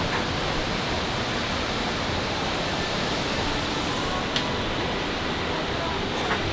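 A waterfall cascade in Japan pours as a dense, steady broadband roar, close and loud, filling the scene without breaks apart from a couple of faint clicks.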